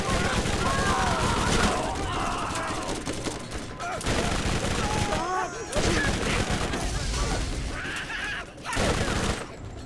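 Bone Shredder Tediore SMG from Borderlands 1 firing in long rapid bursts, dense and loud throughout, with brief gaps between strings of shots, under game music and effects.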